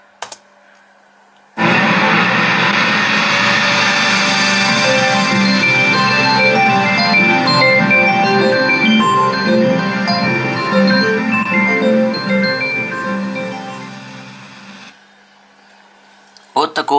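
Windows NT 5.0 Beta 2 startup sound, a sustained layered synthetic chime with bright tonal detail, loud and alone for about thirteen seconds before fading into near silence.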